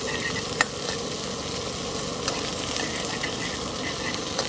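Mustard seeds, urad dal and cumin sizzle in hot oil with a dense, constant close-up hiss, broken by a few sharp pops and crackles, with no voices.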